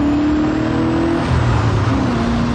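A 1992 MG RV8 prototype V8 sports car accelerates close by, its engine note holding steady and then dropping to a lower pitch as it pulls away, loud and continuous with no voices.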